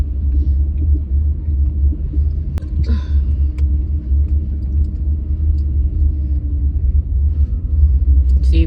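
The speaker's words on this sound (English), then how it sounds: "You're driving so slow, you can give it a little gas." A car creeps along slowly with its engine idling low, giving a steady rumble that runs unbroken throughout, alongside a few faint thumps and rattles.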